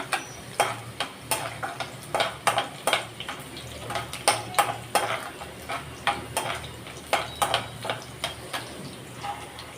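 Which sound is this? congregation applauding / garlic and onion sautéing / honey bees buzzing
garlic and onion sautéing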